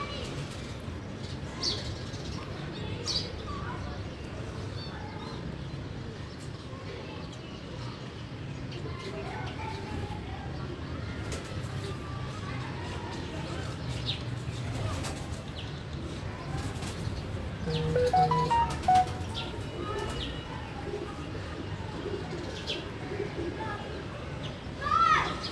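Domestic loft pigeons coo softly and repeatedly against a low background hum, with occasional chirps and a faint voice in the background.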